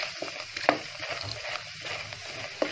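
Food frying in plenty of ghee, a steady soft sizzle with a few brief louder pops and a faint clink of stirring, moderately close and without voices.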